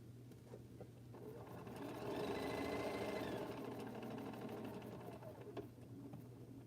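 A sewing machine stitches jelly roll quilt blocks in one continuous run that swells and then eases off, fairly close, with no talking over it.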